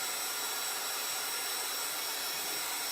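A steady, loud whooshing roar of a heat tool blowing hot air, constant and unbroken throughout.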